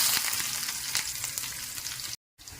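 Shallots frying in ghee in a small pan, a close, bright crackling sizzle with tiny popping bursts, broken by a short moment of silence near the end before the frying resumes.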